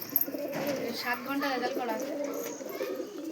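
Pigeons at a pigeon market coo softly in the background while someone talks over them, with a busy, noisy ambience throughout.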